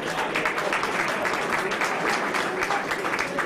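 An audience at a dinner at Villa Loredan Franchin in Ceggia applauds for students, with steady dense clapping throughout at moderate level and a faint voice underneath.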